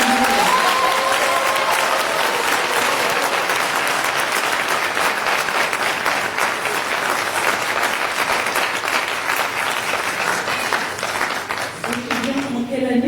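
Audience applause welcoming a young student candidate at a speech contest, a loud, dense, continuous clapping that holds steady and thins near the end as a voice returns.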